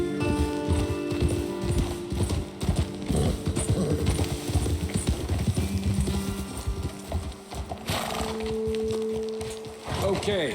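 Horses ridden in Red Dead Redemption 2, with steady rhythmic hoofbeats and tack jangling close by, continuing under background game sounds and brief tonal hums.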